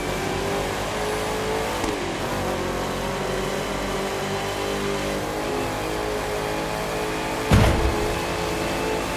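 A race car engine revving hard in The Crew 2, a continuous loud drone with pitch sweeping up and down through gear changes and a sharp whoosh near the end.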